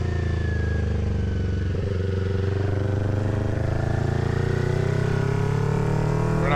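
A 2023 Kawasaki Ninja motorcycle rides along with a loud, steady engine drone whose pitch climbs gradually as it accelerates, backed by wind noise and no talking.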